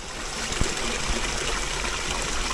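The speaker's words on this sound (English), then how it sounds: "There's water running off the mountain right there." Water running off a mountain stream along an offroad trail at the Hanging Gardens, a steady close rush and trickle with a couple of small knocks, no talking.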